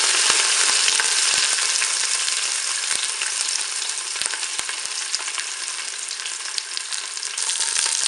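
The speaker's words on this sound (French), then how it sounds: "Mon huile est chaude, je vais pouvoir faire dorer mon rôti sur toutes ses faces." A pork roast browning in hot oil inside a Cookeo multicooker gives off a loud, continuous sizzle with scattered crackles and pops throughout.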